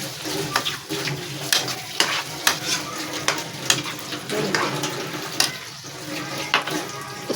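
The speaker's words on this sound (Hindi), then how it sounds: "इसके साथ ही हम अपने अदरक लहसुन का पेस्ट भी डाल देते हैं" Ginger garlic paste sizzles in hot oil for a chicken karahi, with steady close frying hiss broken by repeated sharp scrapes and clanks of a stirring spoon against the pan, and no talking.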